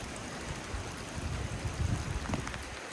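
A river flows by a backcountry campsite at Sloppy Floyd State Park in Georgia, a steady, soft rushing of water heard alone, with no talk.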